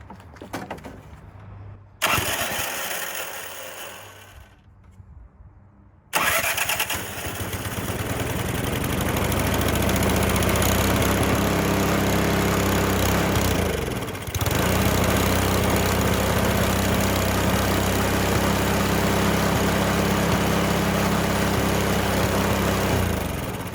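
A Craftsman single-stage snowblower engine, its fuel line just repaired, sputters through a couple of failed pulls, then catches and settles into a loud, steady running drone that holds to the end with one brief dip.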